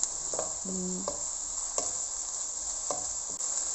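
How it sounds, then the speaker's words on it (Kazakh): Onions fry in a pan with a soft, steady hiss, broken by a few light clinks and scrapes of a spatula at irregular intervals. "Пиязды да жақсылап қуырамыз"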